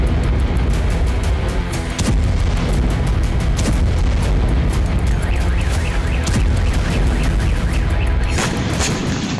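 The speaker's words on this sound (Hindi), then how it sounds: "अब तातारिस्तान में यूक्रेन ड्रोन हमले से जोरदार धमाका हुआ।" A loud explosion from a Ukrainian drone attack in Tatarstan, heard as dense, continuous booming and crackling blasts, close and forceful throughout.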